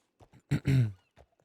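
A short horse snort and whinny in the video game RedM, close and loud, framed by a few soft breathy grunts.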